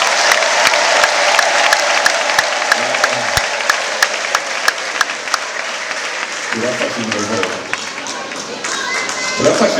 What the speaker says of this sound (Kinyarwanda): Duhe Imana amashyi menshi cyane.